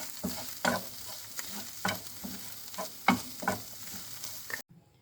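Minced meat fries in a pan under a soft continuous sizzle while a utensil stirs it in repeated scraping strokes, close and clear, stopping abruptly near the end; no one speaks.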